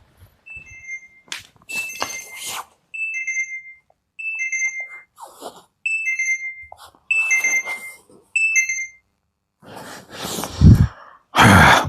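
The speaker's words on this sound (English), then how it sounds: "There's an alarm on my little boy's Nintendo Switch." A Nintendo Switch alarm chirps in short repeated bursts of two-tone beeps, with breathy sighs and rustling noises between and after them.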